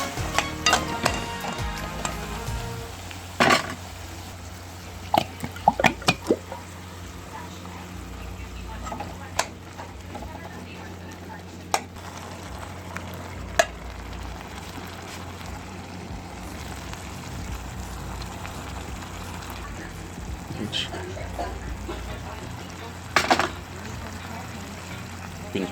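Saltfish frying in a little oil for a fry dumpling, baked bean and salt fish meal, a steady low sizzle running throughout with occasional sharp clinks and stirring scrapes, and faint talk at moments.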